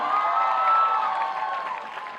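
An audience at a film song launch event claps in a dense, sustained round of applause with some crowd murmur, loud and close throughout.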